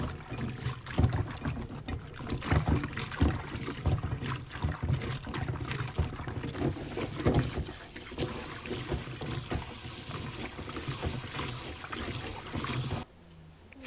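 Peeled bellflower roots (doraji) are rubbed and scrubbed by hand in a basin of water, giving a continuous close sloshing, swishing and splashing that runs steadily for several seconds before stopping abruptly.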